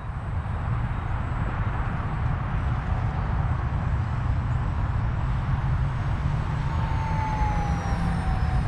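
Banana Hobby X-Fly A-10 Warthog RC jet at full throttle, a steady loud whine and rushing roar held without a break, with faint pitch sweeps as it passes overhead.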